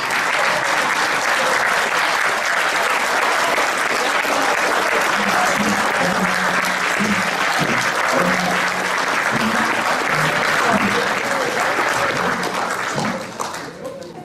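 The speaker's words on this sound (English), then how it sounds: "Give it a round of applause" A sustained round of applause from guests at a high school class's 50th reunion dinner, honoring veterans and firefighters standing in the room; dense, steady clapping fills the room for about thirteen seconds before tapering off.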